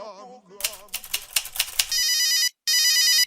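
A telephone rings in two long electronic trilled bursts with a short gap between them, loud and close. Before the rings come sung vocal sounds and a run of sharp clicks in a French mixtape setting.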